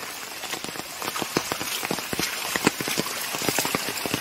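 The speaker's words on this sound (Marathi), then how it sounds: "कोकणामध्ये जोरदार पाऊस आहे।" Heavy monsoon rain pours down in the Konkan countryside, a dense, steady hiss with scattered sharper drops pattering close by, fairly loud and with no voices.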